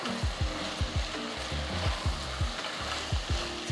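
Vegetables for sambar rice sizzle in a pan while a spoon stirs them in quick, regular scraping strokes, close and moderately loud with a steady frying hiss beneath.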